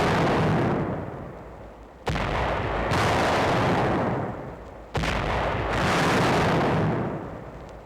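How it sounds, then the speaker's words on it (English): Long Tom 155 mm rifle artillery fires three heavy booming rounds at roughly three-second intervals, each a loud sudden blast followed by a long rumbling echo that fades slowly, with no voices. "Firepower is Long Tom, 155 rifle, that can lift the roof off a German blockhouse 15 miles away."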